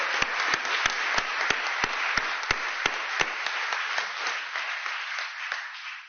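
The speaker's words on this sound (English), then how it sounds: "So we should give them a round of applause." A crowd at a speech honoring trade unions applauds steadily, with a few sharp individual claps standing out near the front before the clapping slowly thins.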